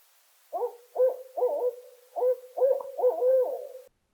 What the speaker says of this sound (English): Barred owl, who hoots for you all.